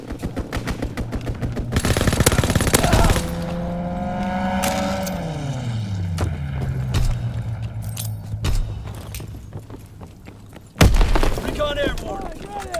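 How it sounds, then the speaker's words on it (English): A fighter plane strafes with machine-gun fire in a video game: a burst of rapid shots opens, then the aircraft's engine pitch sweeps down as it passes, with scattered impacts and a sharp loud burst near the end; voices talk over parts of it. "Fighter pilot inbound, strafing the target."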